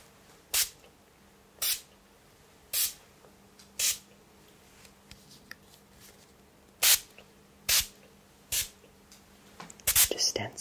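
Short sprays repeat at irregular intervals, each a brief airy hiss, with a faint steady hum underneath and a busier cluster of sounds at the end.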